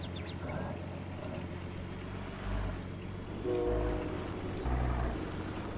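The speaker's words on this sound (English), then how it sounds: "Hear a train way off in the distance." A distant train in a video game rumbles low and faint, with a couple of brief horn-like tonal swells rising from a steady background hum.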